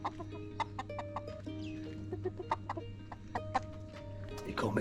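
Several chickens cluck and squawk close by in a busy, irregular stream of short calls over a steady low hum, with no talking.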